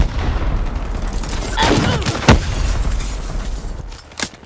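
A burst of explosive arrows fired from a bow in Call of Duty: Black Ops III, heard as two sharp cracking blasts in quick succession and then a fainter pop, all over steady game background noise.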